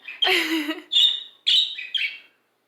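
A pet bird kept in a home menagerie gives four bright, close chirping calls in a broken rhythm, the first longest, each followed by a brief pause, then silence.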